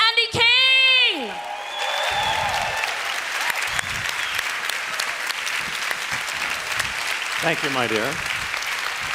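A large conference audience applauds warmly, opening with a loud cheer and a brief spoken thanks, then holding steady, dense clapping that fills the room to the end, with a few whoops rising near the close.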